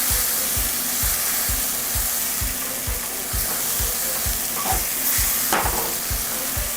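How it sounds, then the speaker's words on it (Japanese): Beef and tomato stir-fry with two tablespoons of soy sauce sizzles steadily in a pan, with a rhythmic scraping of the utensil tossing the food roughly every half second, close and continuous. "で醤油とトマトを絡めていく感じです"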